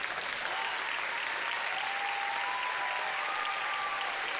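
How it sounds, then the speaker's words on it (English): Steady, dense applause from a sizable crowd at a middle school eighth-grade moving-on ceremony fills the whole stretch, continuous and fairly loud with no pauses. "please stand for a round of applause"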